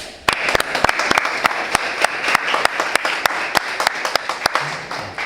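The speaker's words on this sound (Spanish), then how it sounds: "vamos a brindarle un fuerte aplauso, chicos" Students in a classroom give their teacher a lively round of applause, dense clapping with many sharp individual claps standing out, steady and fairly close throughout.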